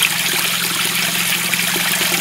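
Steady, close trickling and rushing of a clean stream flowing into a pond, continuous and fairly loud, with no voices.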